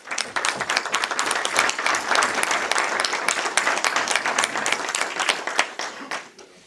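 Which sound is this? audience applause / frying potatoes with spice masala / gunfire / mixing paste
audience applause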